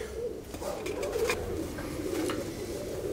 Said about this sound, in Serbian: ovo su sve, znači, golubi